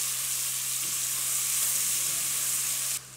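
Onions sizzling in a greasy pan for a copycat Zuppa Tuscana soup, a steady, close hiss of frying with no voices.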